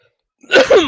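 A single loud, close sneeze bursts out after a moment of silence, with a sharp intake of breath before the explosive release.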